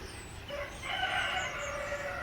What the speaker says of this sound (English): And that is a cockerel.